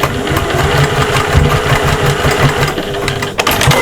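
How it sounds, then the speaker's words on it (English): Sewing machine top stitching along a zip on a cross-body bag, a steady, loud mechanical whirr with fast, rhythmic needle pulses running continuously and close by, no talking. "It's a top stitch, so if you want to, you could lengthen your stitch."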